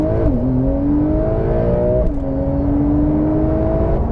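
A Porsche 911 Carrera 4S of the 992 generation pulls hard from a standing start, its engine note rising steadily through the gears with a clear shift break midway, loud and close but fairly restrained.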